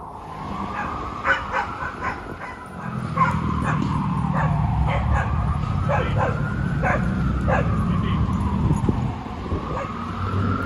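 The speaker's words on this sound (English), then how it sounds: "Little dog run right here." A small dog yips and whimpers repeatedly in short bursts, fairly close, over a steady background hum.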